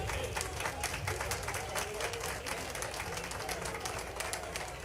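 Audience applause at a public address, a sustained crowd of clapping hands, dense and steady for several seconds at moderate loudness.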